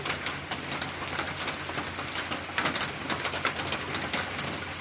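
Steady rainfall pattering on surfaces outdoors near a garden, a dense continuous wash of droplets at an even, moderate loudness with no voices.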